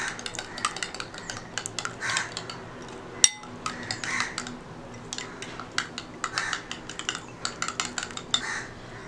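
Eggs being mixed with chilli powder, turmeric and coriander in a bowl, quick repeated clinks and scrapes of a utensil against the dish, fairly quiet, with one sharper knock partway through.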